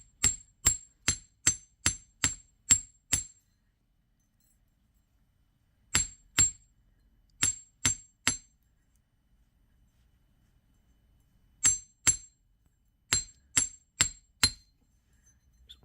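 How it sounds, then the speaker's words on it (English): Copper wire earring loops are pounded with a hammer: sharp, bright metallic taps come in quick rhythmic bursts of four to eight strikes, separated by pauses, close and clear with no talking. "So just choose one, doesn't matter which one, and start pounding."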